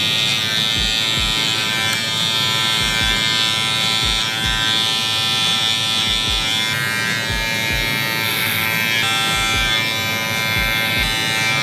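Electric hair clippers fitted with a 4 guard, lever open, cutting hair in a barber tutorial; a loud, steady close-up buzz runs throughout, with repeated low thumps as the clipper scoops through the hair.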